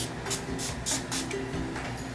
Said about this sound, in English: to set everything, I will be using the Urban Decay All-Nighter Setting Spray